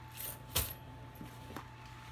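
Loose coins in a carry-on bag make a few faint metallic clinks and jingles, one sharper chink standing out among quieter rustles.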